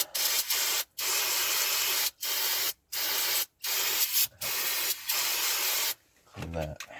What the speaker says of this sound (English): Let's get some brake clean in there.